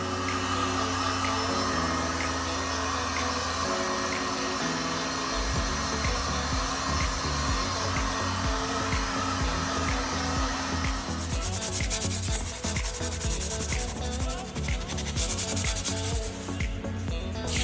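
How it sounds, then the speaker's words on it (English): A heat gun blows steadily on a freshly filled spot in a hardwood floor during a screen-and-recoat job, giving a loud, continuous roaring whoosh with no talk, and its tone shifts partway through as the nozzle moves. "let's put a heat gun on it"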